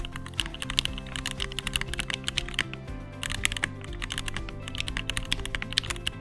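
Rapid, continuous typing on a Keychron Q4 mechanical keyboard with Gateron North Pole switches, crisp clacky keystrokes, steady and close, with no talking.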